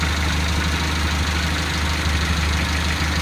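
A Toyota Lite Ace idles steadily through a thick T304 stainless steel exhaust fitted with a resonator, giving a continuous low, even rumble from start to finish with no voices present.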